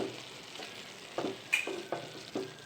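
Carrot halwa cooking in milk in a pan is stirred with a few soft scraping strokes over a low simmering hiss, quiet and close, no talk.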